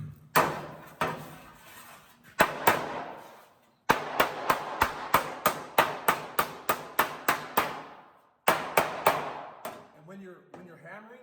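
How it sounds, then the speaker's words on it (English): Sheet metal hammered by hand on old-school shaping tools: sharp, ringing metallic blows in quick steady bursts, each ringing briefly before the next, with short pauses between runs, loud and close. "When you're hammering, don't use your whole arm like this. Use your wrist."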